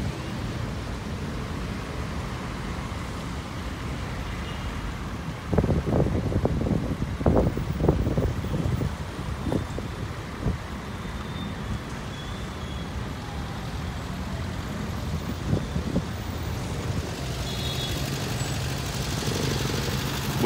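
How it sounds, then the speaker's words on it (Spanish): Congested road traffic at a street accident scene where a car struck a motorcycle, a steady outdoor rumble of idling and passing vehicles with wind buffeting the microphone and a burst of louder thumps and engine noise midway. "el tráfico se encuentra bastante congestionado"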